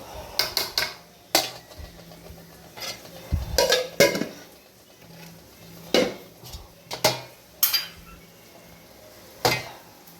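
Clinks and scrapes of a spoon against dishes, in scattered bursts over a quiet background, close by.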